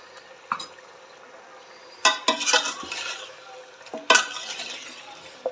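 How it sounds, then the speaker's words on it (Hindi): Chopped onions frying with chicken in a pan: a faint background sizzle broken by several sharp bursts of spoon-on-pan stirring and scraping. "प्याज डालेंगे और इसके साथ फ्राई करेंगे।"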